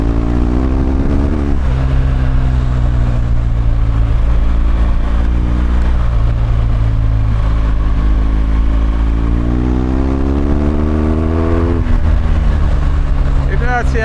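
A BMW R1200GSA motorcycle's boxer engine rumbles close by off-road at a low, throbbing, tractor-like pitch, its revs rising and falling a few times without stopping.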